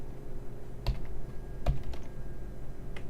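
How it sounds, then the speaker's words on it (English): Typing on a computer keyboard, a few sparse, distinct key clicks at close range with quiet room noise between them. "excuse my typing."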